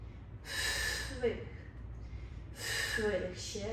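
Two forceful, breathy exhales from someone doing a home pilates workout, heard up close and separated by a short pause, with quiet room tone between them.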